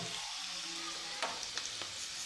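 Cumin seeds added to hot oil with fried potatoes, a dense continuous sizzle with a few sharper crackles and pops near the end.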